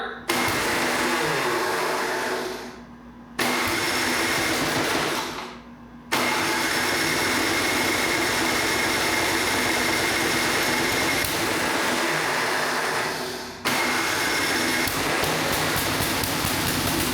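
A John Deere 1032 snowblower engine with a new untuned carburetor, loud and close, starts and runs with a steady roar, briefly dying down twice before catching again, then running continuously with another dip near the end.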